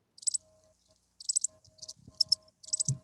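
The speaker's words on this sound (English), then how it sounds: "That's crickets. Okay? I hear crickets." Crickets chirp as a sound effect in short, bright, repeated bursts spaced by brief gaps against a quiet background, with a faint low tone and a few soft thumps underneath.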